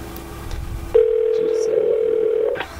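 Outgoing phone call with a steady electronic ringback tone sounding continuously for about two seconds after a brief lead-in of room noise, unanswered, clear and fairly loud, no talk.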